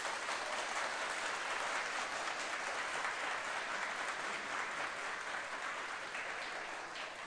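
A studio audience applauds during a regional television show from Çorum, a dense sustained clapping that stays loud and even from start to finish, fading slightly at the end.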